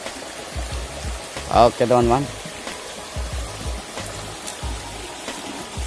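A moderately flowing shallow river with a rocky bed makes a steady broadband rush and babble throughout, with someone talking briefly over it near the middle.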